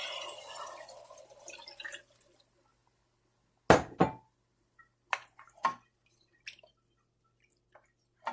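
Water poured into a pot of mutton haleem, a watery splash at the start followed by a few sharp wet clinks and drips spaced apart in a quiet kitchen.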